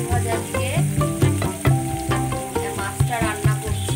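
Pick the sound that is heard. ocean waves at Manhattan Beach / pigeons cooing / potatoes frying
potatoes frying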